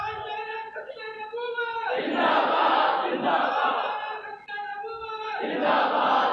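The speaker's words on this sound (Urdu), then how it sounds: "تاجدار ختم نبوت کا نعرہ لگایا کرو" A large congregation at a Friday sermon on the Khatam-e-Nabuwat creed loudly chants the religious slogan Tajdar-e-Khatm-e-Nabuwat, a leader's call answered by a massed roaring response that swells, drops and rises again.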